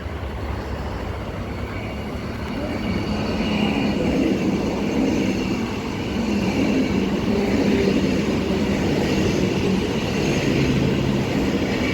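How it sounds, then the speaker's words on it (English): An NIS non-service electric train, EMU 77 leading and EMU 125 trailing, rushes through Murdoch station in a sustained loud roar that swells and holds for the whole stretch, with no talk. "we have the second and I believe last NIS train about to pass. EMU 77 is leading."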